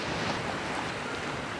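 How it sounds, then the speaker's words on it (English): Strong wind blowing across a UK sea coast on a sea-fishing outing, a steady broadband roar with microphone buffeting and surf, continuous and loud with no speech. "I didn't think it'd be quite as windy as this."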